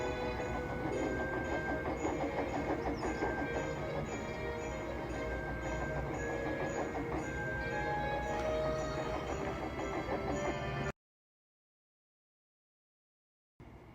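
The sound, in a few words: Bachmann model train pulling a passenger train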